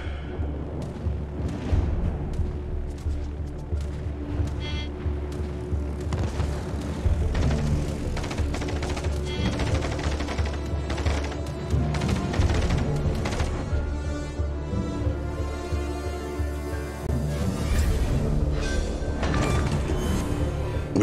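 An enemy cruiser exploding and sinking in a naval combat video game: a long, loud stretch of heavy booming, crashing blasts and rumbling wreckage that keeps going from start to finish.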